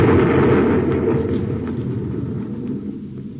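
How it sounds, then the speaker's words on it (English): A torpedo blast in an old radio drama, a heavy low rumbling boom that fills the clip, loud from the start and slowly fading as a dense roar. "He fired a torpedo."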